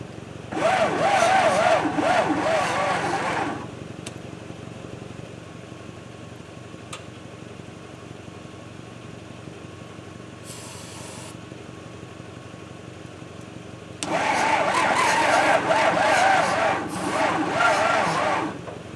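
Case 530 gasoline backhoe engine cranking without starting, two loud churning bursts of starter effort separated by a quieter stretch of low mechanical hum.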